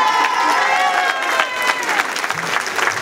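Audience applause for the performers at a charity tea dance, dense and loud clapping sustained throughout, mixed with crowd cheering and voices.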